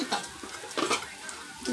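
Potatoes go into ground meat in a frying pan, giving a soft sizzle with scraping, stirring clinks of a utensil against the pan, intermittent and fairly quiet at close range.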